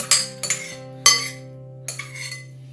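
A few sharp clattering bursts of corn salad being dumped and scraped into a big mixing bowl, with bright clinks of a utensil against the bowl over a low steady hum.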